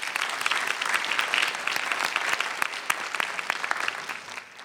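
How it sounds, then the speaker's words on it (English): An audience at a STEM educational panel event bursts into dense, sustained applause, many hands clapping steadily and loudly for nearly five seconds before tapering slightly at the end. "Please give yourselves a round of applause."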